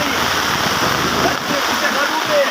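Dirty water rushes and splashes through a blocked village drain after heavy rain, a dense continuous roar close by with a brief dip midway.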